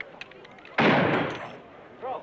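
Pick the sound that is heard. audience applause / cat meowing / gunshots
gunshots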